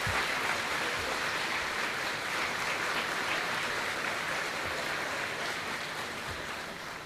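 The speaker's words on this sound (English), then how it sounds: "Seniors, please stand with me and applaud our parents and families, thanking them for all that they have done to support us." Graduation ceremony crowd applauding parents and families, a dense, continuous wash of clapping from a large audience that holds steady throughout and eases slightly near the end.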